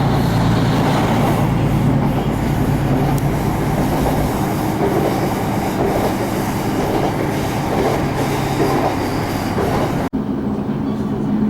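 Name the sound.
train arriving at a station on the West Highland Line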